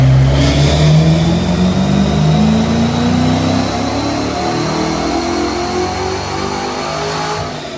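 A 1964 Mercury Comet engine revs hard and loud on a dyno, its pitch climbing steadily, then eases into a sustained high roar as the revving tapers off.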